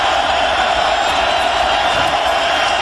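Loud stadium crowd at a 2002 Philadelphia Eagles at Tennessee Titans football game, a dense, steady roar of cheering filling the whole span without a break.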